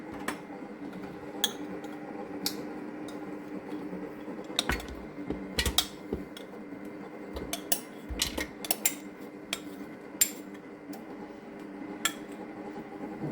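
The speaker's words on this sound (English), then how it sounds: "we're just going to lift the lid, remove that gently, and we are going to pop our oils, or our butters and our oil inside" A pot lid is lifted and set aside, then butters and oil are added for homemade vegan body lotion bars: scattered light clinks and clatters of metal and glass over a quiet background, with no talking.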